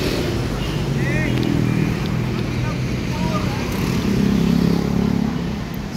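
Cars idle and creep forward in a long motorcade queue, with a steady low engine and road rumble throughout and a few faint horn or siren chirps, while a person talks nearby.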